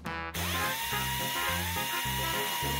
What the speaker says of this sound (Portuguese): Você segura e eu apertarei os parafusos.